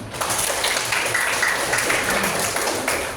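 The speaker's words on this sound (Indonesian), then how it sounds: "Tepuk tangan dulu." Steady applause from a classroom group, dense and continuous clapping throughout, fairly loud and close.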